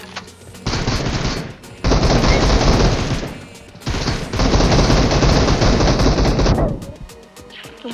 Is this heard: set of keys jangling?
no